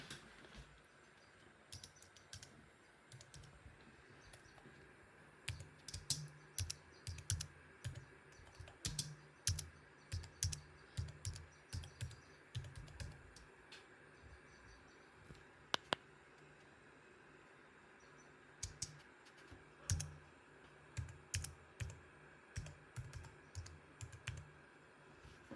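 Steady typing on a computer keyboard in bursts of quick clicks, close and fairly quiet, with short pauses between runs of keystrokes and a faint mouse click or two.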